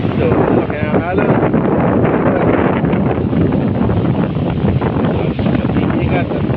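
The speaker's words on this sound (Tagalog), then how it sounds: "Malakas. So, malaki ang alon." Strong, steady wind roars against the microphone with rushing water and large surging waves beneath, under a voice speaking, during a typhoon near a river.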